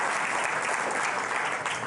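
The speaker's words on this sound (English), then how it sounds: "getting a round of applause in here in Jupiter" Steady, dense applause from a crowd in a room at an ESA Jupiter mission launch event, sustained at an even level throughout with no pauses.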